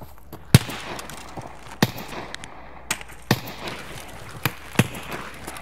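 Gunfire from a Scav in Escape from Tarkov: sharp, separate shots spaced a second or so apart over a low background, ringing out at moderate distance.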